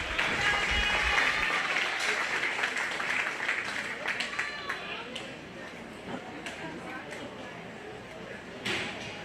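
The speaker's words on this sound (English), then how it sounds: "Go ahead and give her a nice round of applause" Crowd at a 4-H/FFA goat show claps for an exhibitor, scattered applause that gradually thins while a voice talks over it and sharp individual claps stand out.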